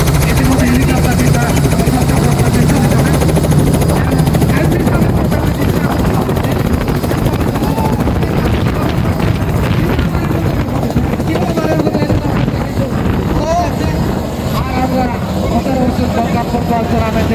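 A helicopter sets down on a village football ground ahead of a tournament final, its rotors and engine a loud, continuous roar throughout, with voices talking over it.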